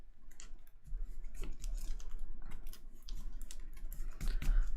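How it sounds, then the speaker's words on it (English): A pile of game cards from the DC Deck-Building Game is shuffled by hand, giving soft, quick riffling and clicking bursts at close range, uneven in rhythm and fairly quiet, with no talking. "So we're just going to shuffle up this destroyed pile."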